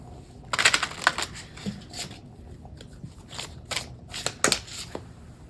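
An African Goddess Rising oracle card deck being shuffled by hand, a run of close, crisp riffling bursts and soft card slaps in irregular rhythm with short pauses between them, no talk.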